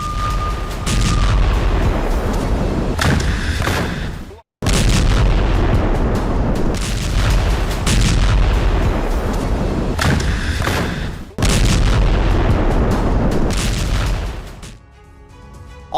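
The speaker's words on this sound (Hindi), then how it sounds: "आईडीएफ की भीषण बमबारी" Gunfire and artillery during fighting in Khan Younis, Gaza, come as loud, dense roaring bursts that fill the air almost without pause, broken by a sudden cut of silence, with no voices.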